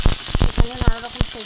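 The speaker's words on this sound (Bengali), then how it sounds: "অল্প একটু সর্ষের তেল দেবো, দিয়ে আমি উচ্ছে কটা ভেজে নেব।" Bitter gourd frying in mustard oil in a kadai, a dense close sizzle punctuated by repeated sharp crackles and spatters over a short stretch.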